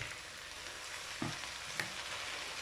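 Radish leaves and onion sautéing in a pan make a quiet, steady sizzle, broken by a couple of faint stirring knocks.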